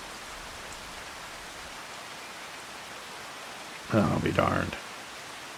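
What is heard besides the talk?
rain falling in the video game Farming Simulator 25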